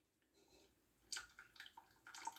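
Water poured off a pot of cooked rice into a sink without a colander, a few short splashy gushes and trickles, fairly quiet and close, with no talking.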